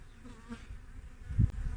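A honeybee buzzing close by during a hive inspection, a faint low drone that swells louder near the end, heard alone without voices.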